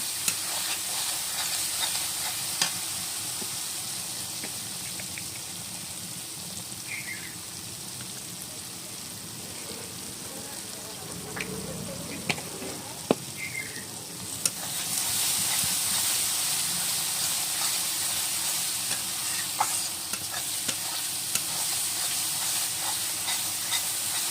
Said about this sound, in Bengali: মশলাটা ভালো করে কষিয়ে নেব।